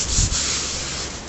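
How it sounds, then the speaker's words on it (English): Brief abrasive rubbing as the trim of a Classic Mini is sanded during restoration, a close, scratchy stroke lasting just over a second with no speech. "this is the last spot to sand and fill"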